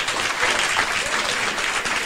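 Sustained audience applause at a community event about the BBC Home Front cast in Folkestone, a dense steady clatter of many hands clapping throughout, close and fairly loud with no talk over it.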